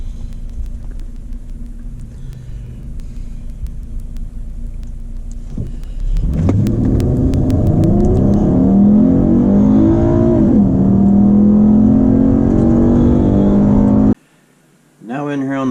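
Car tuned with a Volo Chip VP16 programmer revs on a dyno through a quarter-mile run: idle rumble, then a sharp rise into climbing engine pitch that shifts through gears and holds loud before cutting off abruptly.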